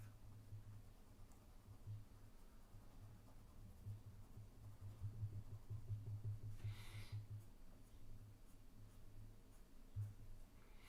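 Pen sketching a car drawing on paper, faint scratchy strokes in short repeated bursts close to the microphone, with quiet pauses between strokes and no talking.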